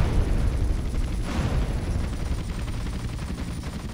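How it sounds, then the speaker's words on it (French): Machine gun fire rattles nonstop in a GTA game played on the Nintendo Switch, a dense, loud, sustained burst with no break and no voices. "Voilà, mitrailleuse"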